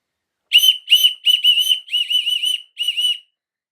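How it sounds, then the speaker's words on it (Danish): A loud, shrill, cheap toy whistle sounds in about seven short, piercing bursts of uneven length, close up, with no talking. "Jeg ved faktisk ikke helt, om den lød som en ørn, eller den bare lød som en fløjte."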